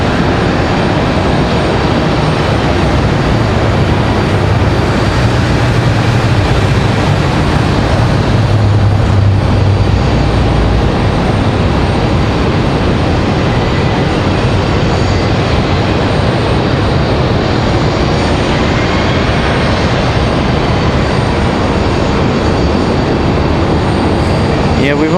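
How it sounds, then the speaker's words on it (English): A Delta Airbus A319 airliner turning on the runway at Raleigh-Durham International Airport, a loud, steady jet engine roar that holds for the whole stretch. "Delta getting ready to make that turn. That is an A319."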